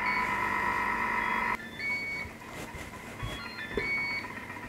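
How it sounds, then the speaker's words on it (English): Beeping from a kitchen timer rings out steadily at first, then cuts off, leaving faint intermittent tones and soft clatter over quiet background noise. "There's our timer ready."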